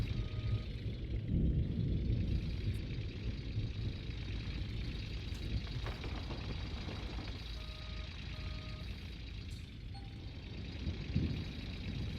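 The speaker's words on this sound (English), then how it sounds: "another thunderstorm, really?" Thunder from a storm in the gold-mining video game Gold Rush: The Game rolls as a steady, deep rumble that fills the whole stretch, with no voices over it.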